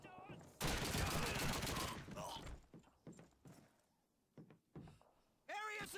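Gunfire in Call of Duty 2 on the Beaumont level: a dense, loud burst of shots, then scattered distant bangs and impacts, with someone talking over parts of it.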